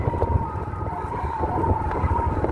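A low, steady wind drone hums through a fishing net at sea during a strong northeast monsoon wind, with a faint tonal whine riding over constant rumbling gusts.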